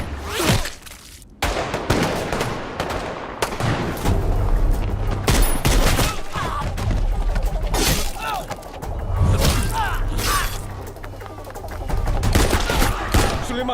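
Loud action-movie battle scene from a dubbed Prabhas film: dense automatic gunfire rattles in sustained volleys with shattering impacts and booms, close and continuous across the whole stretch.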